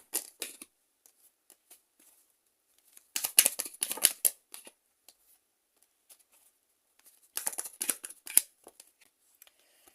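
Tarot cards shuffled by hand in two close bursts of quick riffling and flicking, separated by near silence, with no talking.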